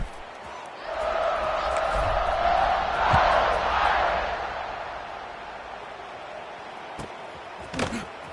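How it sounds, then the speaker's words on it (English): Stadium crowd at a Notre Dame versus Auburn college football game, a broad roaring buzz that swells into cheering for several seconds before easing back, with a few sharp whoops near the end. "this crowd is buzzing after that last score"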